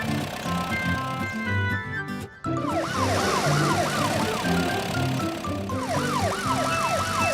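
In a children's cartoon about helper vehicles, a police car's siren wails in rising and falling sweeps over a bright musical score. A short pause cuts in, then the siren returns and keeps repeating.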